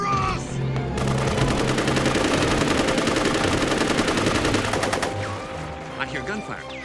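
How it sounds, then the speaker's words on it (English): Loud rapid gunfire in an anime, a sustained burst of automatic shots lasting several seconds, with voices shouting before and after. "I hear gunfire."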